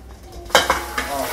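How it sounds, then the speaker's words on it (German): Hot, freshly fried potato chips (fries) are tipped and stirred into a bowl, giving a few close scraping, clattering knocks with a faint crisp rustle, and no speech. "Die Pommes tun wir dann in die Schüssel."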